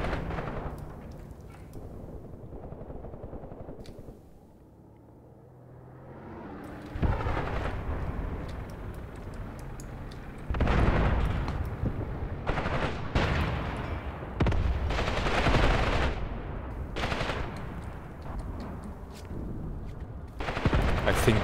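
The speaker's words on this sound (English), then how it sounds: "The light infantry guns are shooting." Light infantry guns fire in Graviteam Tactics: Mius Front. A quieter stretch of distant rumble gives way to heavy, repeated booming shots and rattling gunfire that come close together and loud, with no voice over them.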